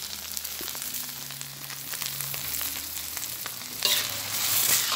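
Wide rice noodles and pork stir-fried in a hot pan, a steady sizzle with scraping and tossing noises running continuously and growing a bit louder near the end.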